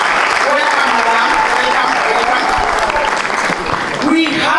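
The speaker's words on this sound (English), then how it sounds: "Can we appreciate her by applauding her?" Sustained applause fills a hall at a national student leaders' summit on climate change as a panelist is welcomed, a loud dense clapping that runs throughout with a voice briefly heard over it.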